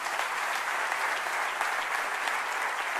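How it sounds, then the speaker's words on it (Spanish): A crowd at a Spanish-language talk applauds volunteers in a continuous, even roar of clapping, somewhat distant and without breaks. "Un aplauso para nuestros voluntarios"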